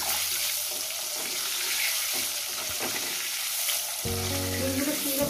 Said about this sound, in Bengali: ডিমগুলো সুন্দর করে একটু ভেজে নেব